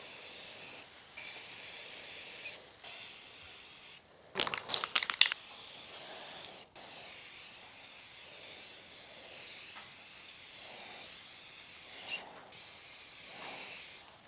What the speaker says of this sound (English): This is the spray that we're using today.